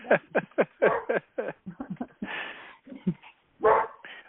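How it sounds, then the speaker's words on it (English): A dog in a home lets out a quick series of close, sharp barks and yips, then a whimpering whine and a final bark, all loud and with no talk. "Oh, that's my son's dog."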